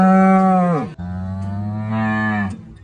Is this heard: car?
no